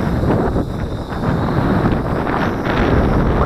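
About ten mile per hour wind roars over the microphone outdoors while a WLToys V636 Skylark RC plane is flown, a loud continuous rumbling gust noise with slight surges and no voices.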